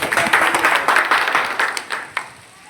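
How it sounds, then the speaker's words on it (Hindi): A crowd at a Shyama Prasad Mukherjee birth anniversary function with tree planting at Balaji Dham Raipura gives the chief guest a steady wash of applause. It holds even for about two seconds, then thins out and fades. "सभी मिलकर अपने अध्यक्ष जी मुख्य अतिथि जी का अभिनंदन करें, तालियां बजाकर उनका"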